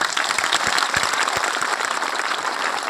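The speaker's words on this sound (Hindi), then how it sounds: "तो हमें अपने पुरखों के लिए एक बार ताली बजा दीजिए" An audience at a political speech in Bihar applauds steadily, a dense wash of many hands clapping at once, fairly loud and sustained for the whole stretch with no talking over it.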